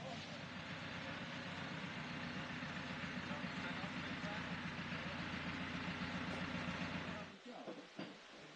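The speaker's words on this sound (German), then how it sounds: "Es ist jetzt halt ein bisschen dunkel, aber da kommt ein Traktor." A tractor engine rumbles steadily at night, arriving to tow a motorhome stuck in Greece, a continuous low idling drone that holds level before dropping off near the end.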